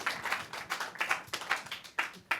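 Clapping from a small audience greeting a panel speaker at an ethics and animal consciousness event, sparse and uneven with distinct individual claps, fairly quiet, with a faint voice underneath.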